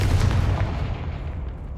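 A fire-spell explosion from a Hogwarts Legacy battle hits as a loud, close boom that rolls off into a fading rumble.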